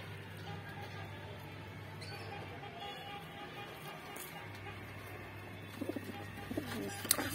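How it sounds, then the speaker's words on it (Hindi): Soft, low cooing from a group of border and white desi pigeons for sale at a bird market, faint and continuous with a few sharper clicks and rustles near the end. "ये 8 कबूतर हैं जी, इसमें 4 मादाएं हैं कंफर्म, 4 ही नर हैं कंफर्म इसमें बिल्कुल।"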